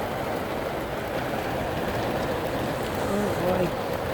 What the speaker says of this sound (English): Have we ever been in Arizona when it's rained this hard?